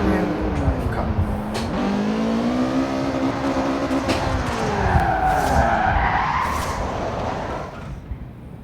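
Tires of a rear-wheel-drive Mazda Miata MX-5 squeal and skid through a spin in Forza Horizon 4, with the engine revving and pitch sweeping up and down, loud and continuous.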